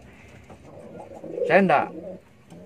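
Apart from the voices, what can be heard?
pet bird, likely a pigeon or dove, cooing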